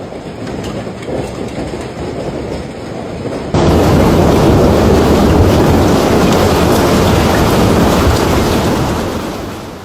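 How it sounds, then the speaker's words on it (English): Egg-sized hailstones pound roads, rooftops and cars in Kunming, China, a dense, roaring clatter that surges suddenly louder partway through and stays as a loud, continuous barrage with no voices. "Large hailstones, some reported to be the size of eggs, fell violently from the sky, smashing into roads, rooftops, farmland, and airport infrastructure."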